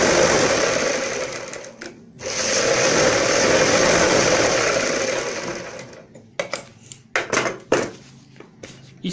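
A sewing machine runs steadily for several seconds while stitching the hem of a salwar mohri with buckram, then breaks into short, uneven bursts of stitching separated by pauses.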